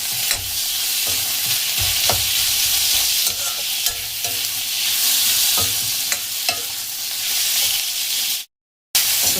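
Tomato pasta sauce stirred in a hot pan, a steady loud sizzle and fry hiss with repeated scrapes of the spoon, cutting to a brief silence near the end.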